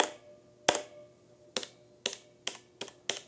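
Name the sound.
mechanical keyboard switch spring ping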